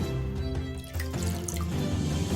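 Water pours into a small bowl of eggs for brownie batter, a steady liquid trickle and splash close by with no one talking.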